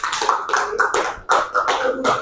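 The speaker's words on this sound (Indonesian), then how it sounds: "tepuk tangan dulu untuk kelompok 1" A school class claps for a student group in a classroom, with rhythmic bursts of clapping that may carry chanted voices, close and fairly loud for a couple of seconds.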